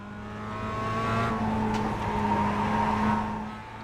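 A Mazda MX-5 Cup race car in the iRacing video game laps Laguna Seca, its engine droning loudly and continuously with rising and falling revs and no talk over it.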